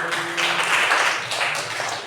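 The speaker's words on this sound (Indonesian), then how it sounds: "Oke, tepuk tangan lagi." A school class claps together in a classroom, a dense burst of applause lasting about two seconds that swells in the middle and tapers off, with no one speaking over it.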